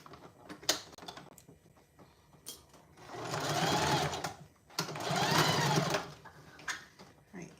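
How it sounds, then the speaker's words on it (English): A sewing machine stitches a tote bag to its lining in two sustained close runs of rapid mechanical whirring, separated by short pauses and scattered handling clicks. "now I'm just going to sew around here just to attach"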